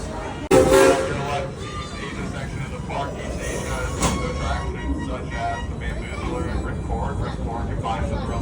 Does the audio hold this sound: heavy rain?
no